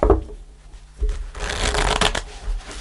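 Tarot cards shuffled by hand during a reading, a close riffling flutter that starts after a short pause and runs steadily for about two seconds, with no talking.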